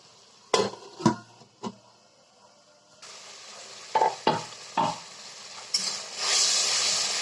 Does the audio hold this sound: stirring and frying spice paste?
yes